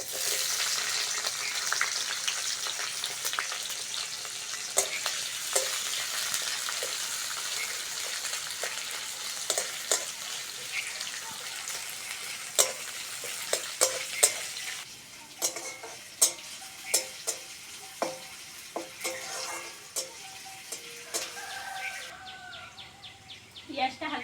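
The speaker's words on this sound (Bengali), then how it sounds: "পেঁয়াজটা হালকা করে ভেজে নিয়েছি" Onion and green chilli frying in a pan give a soft, steady sizzle at moderate distance. Sharper clinks of stirring in the pan cut through in the second half, with faint bird calls in the background.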